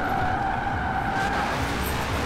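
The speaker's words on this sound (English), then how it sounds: "we are actually still able to drift here in Horizon 4" A car drifting in Forza Horizon 4, with a steady, continuous tyre skid squeal held throughout over a droning engine, loud and close.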